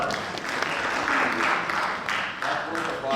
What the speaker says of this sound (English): That's worth applauding for, yes.